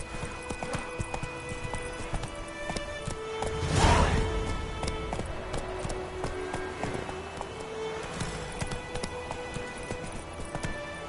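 Hooves of a horse clip-clop at a gallop in The Witcher video game, a steady rapid beat swelling briefly near the middle over a constant musical and ambient game bed, no voices.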